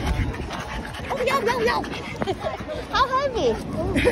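A 25-pound fluffy puppy pants and whimpers up close, with excited human chatter and babble around it, at a flower show.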